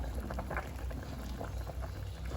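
Cabbage plunges into a pot of boiling pork soup, a steady close bubbling and gurgling of liquid with soft patter, continuous and moderately loud, with no voices.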